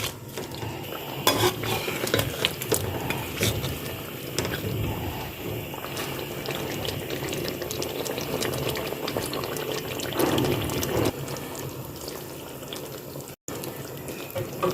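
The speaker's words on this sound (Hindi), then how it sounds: "3 से 4 मिनट के लिए अच्छी तरह इसकी मीडियम आंच में भुनाई करेंगे।" Whole spices roasting in a pan over a medium flame while cooking chicken curry, with a steady soft sizzle and frequent scraping stirs throughout, close and moderately loud, no talk.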